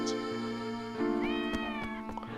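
A cat in the Professor Layton and the Last Specter video game lets out a clear, drawn-out meow with a rising then falling tone, close and fairly quiet, with no talking over it.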